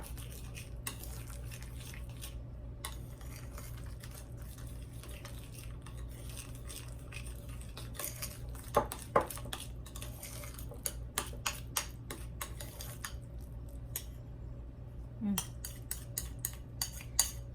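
A spoon mixing Italian seasoning with chopped onion in a bowl for keto lasagna, making a long run of light clinks and scrapes that grow sharper and more frequent near the end.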